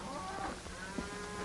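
Cattle low in an outdoor ranch setting from a 1935 film, a muffled, hoarse moo under steady noisy background.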